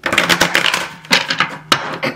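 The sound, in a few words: tarot cards being shuffled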